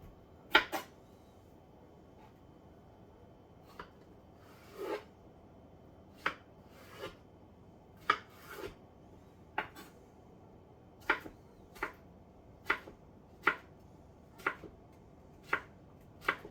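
Knife chopping ingredients on a cutting board while preparing red beans and jambalaya, about a dozen crisp separate knocks at an unhurried, uneven pace, close and clear over quiet room tone.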